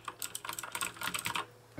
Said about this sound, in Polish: Tutaj mamy wersję z Blue. Oczywiście jest charakterystyczny klik.